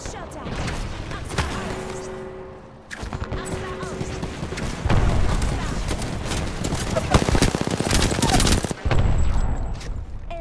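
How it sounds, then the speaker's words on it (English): Rapid gunfire from the Apex Legends video game, bursts of automatic shots in dense, loud volleys that run almost continuously with brief gaps, mixed with game sound effects. "I'm getting shot at."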